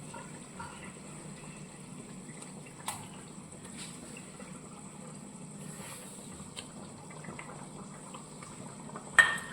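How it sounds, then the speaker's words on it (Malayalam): Egg curry boiling in a pot, a faint, steady low bubbling with occasional soft clicks and a sharper knock near the end, no talk. "ഇനിയിപ്പോൾ ഇത് നന്നായിട്ട് തിളച്ച് വന്നിട്ടുണ്ട്."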